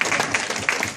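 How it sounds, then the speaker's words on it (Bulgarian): An audience claps briefly, a close burst of scattered hands with a few sharper individual claps standing out in an uneven rhythm. "аплодисменти за Милена беше"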